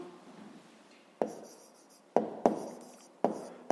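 A pen scratches across paper as a maths exercise solution is written out, with soft continuous strokes and several sharp taps as the pen lands, close and quiet.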